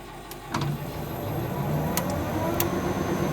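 A traditional milling machine spot drilling with a Foreco tool, a steady mechanical hum and whir running throughout at moderate level, with a few sharp ticks near the start and a couple of high clicks later, no voices.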